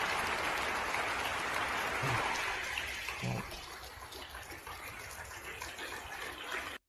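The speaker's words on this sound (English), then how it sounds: "every single individual who's clapping for somebody walking out" State Department personnel lined up in a building applaud departing fellow employees with a continuous, fairly faint wash of clapping, and a few voices mix in before it cuts off.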